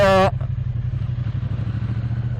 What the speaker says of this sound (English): Hear the rumble from the 900cc high torque Triumph Bonneville engine.